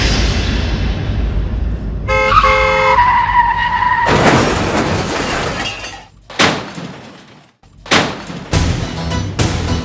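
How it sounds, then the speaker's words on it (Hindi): Tyres skid in a long screech on a TV comedy set, then a loud impact with shattering glass as a car crashes into another car, followed by several sharp crunching bangs and clatter. "आपने मेरी गाड़ी ठोक दी"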